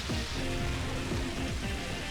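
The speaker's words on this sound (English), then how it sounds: "the rain was super intense in this game" Heavy rain in Pokémon XD: Gale of Darkness hisses steadily as a dense wash, with a repeating low melodic tone running underneath.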